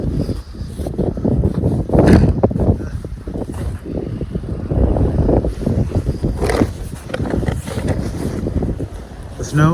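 Strong blizzard wind buffets the microphone in heavy gusty roars after a big snowstorm, loud and close, with surges rising and falling over several seconds.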